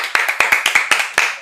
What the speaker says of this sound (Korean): 이 두 분한테도 우리가 박수 한번 쳐주시죠